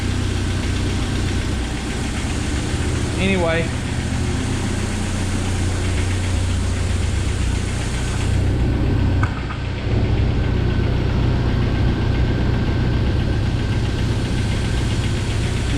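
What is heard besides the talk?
1997 Jeep Wrangler 2.5L engine idling with lifter noise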